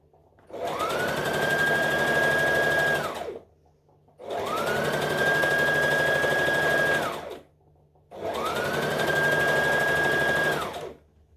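A sewing machine stitches fabric for a Butterick B5655 top in three steady, even runs of about three seconds each, separated by short pauses, close and loud with no talk.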